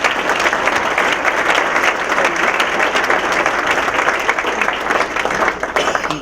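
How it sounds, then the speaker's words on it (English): A dense round of applause from a room of guests at the 73rd Piqua Area Chamber annual dinner, sustained and even throughout, with faint voices mixed in. "if we could give executive board and all the board a round of applause"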